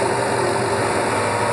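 Toyota Tundra engine idling after a Flex-a-lite electric fan install, a steady, fairly loud even hum that runs through the whole stretch with no talk over it.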